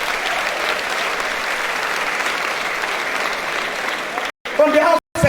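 A large hall of freshly admitted students at Obafemi Awolowo University applaud themselves at an orientation programme, with loud, sustained crowd clapping for about four seconds, then a voice speaks over a brief pause.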